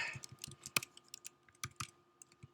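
Someone typing code into an IDE on a computer keyboard, a quick irregular run of close, crisp key clicks and taps with brief pauses and no talking.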